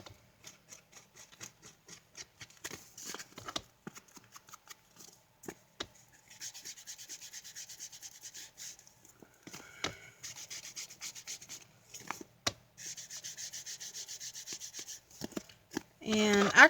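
Paper envelope edges being distressed by rubbing make short, close scratchy strokes in bursts, broken by pauses and a few sharper knocks.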